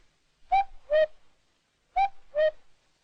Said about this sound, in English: Wasn't that the cuckoo clock?